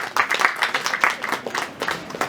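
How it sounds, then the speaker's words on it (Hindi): Loud, dense clapping from a crowd at a film trailer launch fills the whole stretch, sustained and fairly close with no pauses. "जरा जोरदार तालियां बजा दीजिए।"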